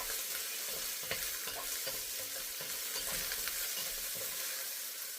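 Shrimp stir-fry noodles with carrots and green onions sizzling steadily in a hot pan while being stirred, a constant crackling hiss with soft scraping strokes, close and even, no talk.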